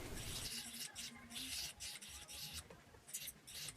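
Steady abrasive rubbing and rasping of a sanding disc smoothing the metal prongs of a jewelry stone setting, continuous with slight surges, close by and fairly quiet.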